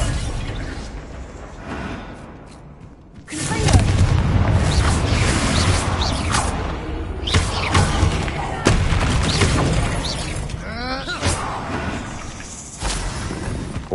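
The Bombarda blasting spell from Hogwarts Legacy erupts into a heavy boom after a quiet lead-in. It is followed by crumbling, shattering debris and rumbling that carries on for several seconds, with a few sharper cracks and scattered clatter.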